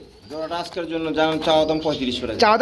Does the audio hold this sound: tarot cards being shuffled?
no